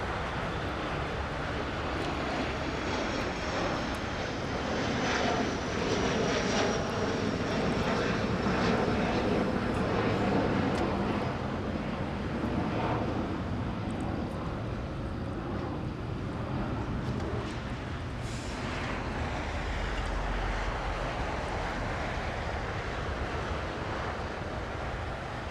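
Korean Air airliner departing from LAX, a loud sustained jet engine roar that swells toward the middle and slowly eases, with a thin whine riding over broadband rumble and some wind buffeting.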